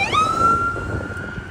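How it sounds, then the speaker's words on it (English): Ambulance sirens wail along Ocean Parkway in New York City, one rising tone settling into a steady high wail that carries loud and clear over low traffic rumble. "Got a lot of ambulances coming down"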